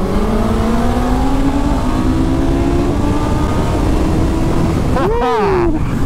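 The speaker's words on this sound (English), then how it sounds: "John, we can do a little bit of a drag race, can't we, up that bit of road?" Loud engine note of motorcycles accelerating in a drag race, a Suzuki GSX-S1000 among them, rising steadily in pitch, then a sharp burst of revving near the end over wind rush.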